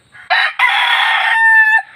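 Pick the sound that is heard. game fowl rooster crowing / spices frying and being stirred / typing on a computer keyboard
game fowl rooster crowing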